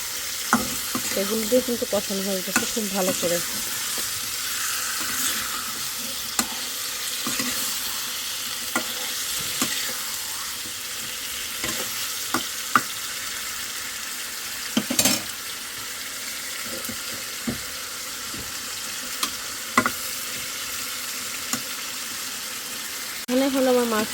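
Fish cooks with tomato in a pan, frying and being stirred, a continuous sizzle with occasional utensil clicks and brief water sounds while someone talks faintly at times.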